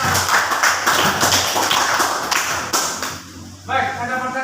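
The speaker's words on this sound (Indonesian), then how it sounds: "tepuk tangan untuk kelompok 4" Classroom applause for a student group after their presentation, a small group clapping in uneven bursts for about three seconds, then a speaking voice takes over.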